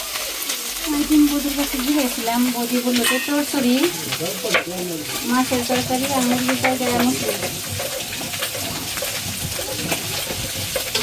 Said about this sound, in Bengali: আর কিছু মাছ ভাজি করতেছে চরচুরির জন্য